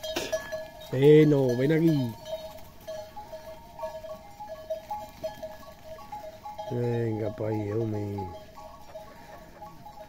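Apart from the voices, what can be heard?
flock of sheep being herded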